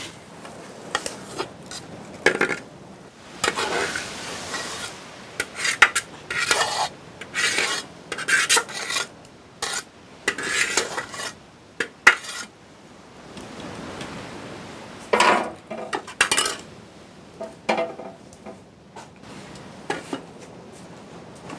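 Duck biryani being stirred in a large cooking pot in a village kitchen, a series of rough scraping rasps in irregular bursts with short pauses, close and clear.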